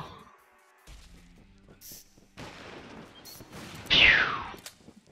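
A semi-automatic weapon in a video game fires a few sparse, separate shots, with one loud close blast near the end standing out over game noise.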